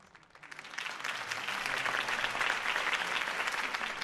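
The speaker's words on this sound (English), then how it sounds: "If only Mr. Wayne, my campaign's largest backer, could have heard that applause" Crowd applause following a campaign speech in a Batman video game, swelling from quiet to a steady, full roar of clapping that holds to the end.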